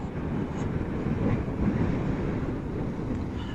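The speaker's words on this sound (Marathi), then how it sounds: "खूप हवा सुटली आहे गाईस, खूप बेकार हवा सुटली आहे" Strong wind roars in a steady, loud, low rumble of buffeting against the microphone while riding a scooter on a highway from Karjat to Pune. No voices are heard.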